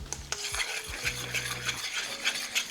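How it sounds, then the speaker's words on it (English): Eggs being stirred vigorously into carbonara pasta in a pan, close wet scraping and squelching with utensil clinks against the pan and a faint sizzle underneath. "Now I want to add this quickly while stirring vigorously"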